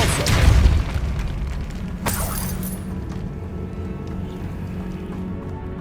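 A Depulso force spell cast in Hogwarts Legacy gives a loud deep boom at the start, then a brief bright crack and a lingering low mechanical rumble.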